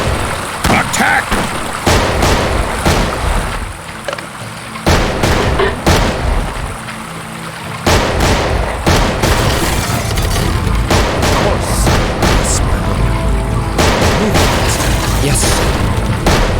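Video game battle with dense gunfire and booming artillery, volleys and explosions crowding each other in a loud, continuous barrage with brief lulls.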